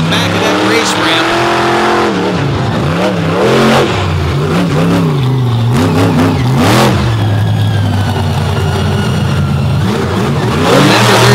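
A monster truck's engine revs hard and repeatedly at a freestyle event on a dirt track, loud and close, with the rising and falling roar mixed under an excited announcer's commentary.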